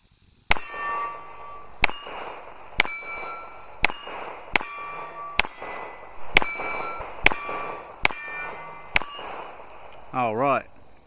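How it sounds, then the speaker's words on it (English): Nine sharp, evenly spaced shots from a Baby Desert Eagle pistol ring out loud and close at roughly one-second intervals, each with a metallic ringing tail, ending in a brief rattling clatter. "I decided to give this pistol just a few more shots."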